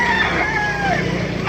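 A rooster at an open-air tyangge market in Baliuag, Bulacan, crows loudly and close, its long wavering call rising over dense market crowd noise.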